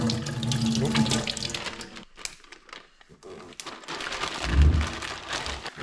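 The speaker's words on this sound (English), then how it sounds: "I'll fill it up with some water now and let it ferment overnight" At a remote New Zealand wilderness campsite, water is poured into bread dough in a container, giving splashing, trickling pours with a brief pause between them, along with some crinkling handling noise.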